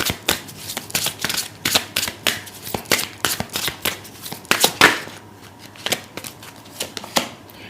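Tarot cards being shuffled for a pick-a-card reading: rapid, rhythmic riffling and flicking of cards in a steady series of crisp bursts, close and clear, slowing and thinning out toward the end.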